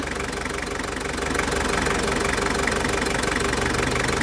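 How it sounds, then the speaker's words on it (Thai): Toyota Hilux Hero pickup engine idling close up with a steady, dense mechanical whir of the R-134a air conditioning running, getting slightly louder after a second. "เสียงการทำงานของระบบแอร์นะคะ"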